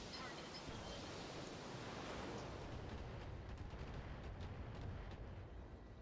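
Mech weapons fire at a target in the video game Battletech, a dense, continuous roar of blasts and rumbling explosions, loud and sustained throughout with no clear pauses.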